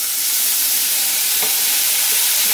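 Ginger paste hits hot oil already tempered with cumin seeds and dried red chilli for a Bengali shrimp and banana-stem dish, producing a loud, dense, continuous hissing sizzle close up, with no talk.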